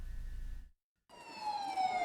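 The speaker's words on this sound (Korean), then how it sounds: "기후변화 위기를 알리는 사이렌이 울리자 사람들이 길바닥에 들어눕습니다." Siren sounded on a street at a civic climate change crisis demonstration, a rising and falling electronic wail heard fairly close after a brief cut, preceded by low rumbling noise.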